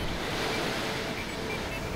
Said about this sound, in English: Even small waves like this can very easily wash the sand out from underneath the Troopy's tyres